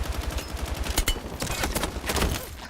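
Rapid bursts of automatic gunfire from a first-person shooter match in Battlefield 6, steady loud rattling volleys with sharp impacts throughout, no voices.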